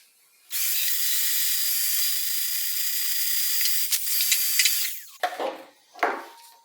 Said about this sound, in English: let's get the vacuum cleaner on it